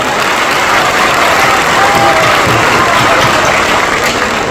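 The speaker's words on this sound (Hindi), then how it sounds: "आपकी तालियां बजाएं एक बार" A large crowd applauds steadily throughout, a dense, continuous wash of clapping with some scattered cheering mixed in.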